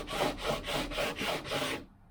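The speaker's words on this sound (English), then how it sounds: "So what I'll do is I'll just take a sanding block here" Sanding block rubbed back and forth over a urethane-coated wooden wing rib during an aircraft build, six rhythmic rasping strokes close up with no talking, ending abruptly in silence.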